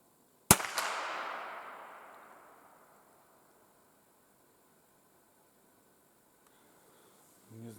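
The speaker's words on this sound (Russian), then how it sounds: "И сейчас выстрелю в яблочко." A single loud rifle shot aimed at a target in the taiga cracks sharply and then rolls away in a long echoing tail through the surrounding forest.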